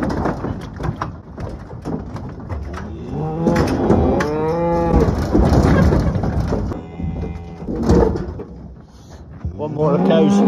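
Cows mooing on a farm during cattle loading, several long loud moos overlapping, close by, with metallic gate clatter and someone talking between calls.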